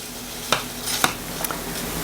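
Quick rice is stirred into a simmering pot of Hoppin John, with a few sharp spoon scrapes and clinks against the pot over a soft, constant bubbling background.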